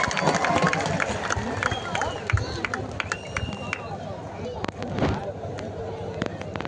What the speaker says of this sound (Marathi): जरा टाळ्या करा की टाळ्या टाळ्या टाळ्या टाळ्या.